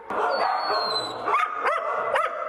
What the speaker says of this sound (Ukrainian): Усіх їх собаки знають і вітають ще на вході.